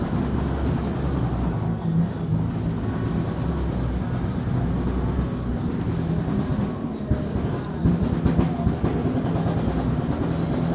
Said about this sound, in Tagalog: Ingay-ingay naman ang tabutso na motor na yan.